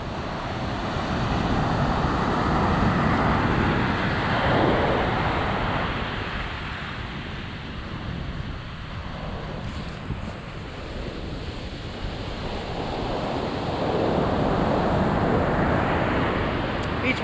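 Surf washing steadily onto an open beach as the tide turns to go out, a continuous broadband rush that swells and eases, with wind buffeting the microphone throughout and no voices.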